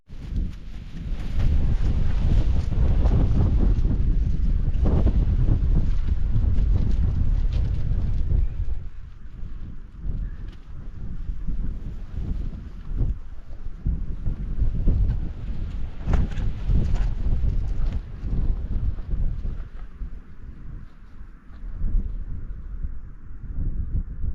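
Strong winds of about 45 mph buffet the microphone in heavy, continuous gusts at an abandoned quarry in winter, a low roaring rumble that eases a little midway and then keeps surging.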